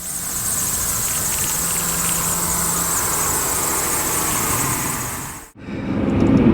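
Engine of a 2004 Lamborghini Murcielago pulling hard in second gear, a steady loud roar from inside the cabin that cuts off abruptly near the end as the throttle lifts or the gear changes.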